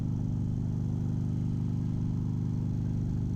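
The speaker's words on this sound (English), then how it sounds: "The engine just pulls" A motorcycle engine pulling hard during a road ride, a steady throbbing drone with a rapid pulsing beat, loud and continuous with no voices over it.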